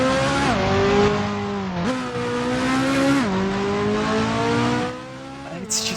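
A car in the video game Driving Empire revs hard through its gears, a loud engine tone climbing, dropping at each shift and climbing again, steady and close with no talk over it.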